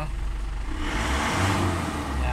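An Isuzu Crosswind engine runs and rises in revs, a close, steady low rumble with a throaty mid-range swell toward the end.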